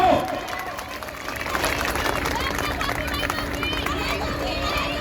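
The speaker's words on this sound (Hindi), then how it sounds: "एक जोरदार तालियां हो।" A crowd of students and guests claps at a Republic Day school program at a girls' school in Triveniganj, Supaul. The clapping is steady and dense, with a mix of children's voices and general crowd noise throughout.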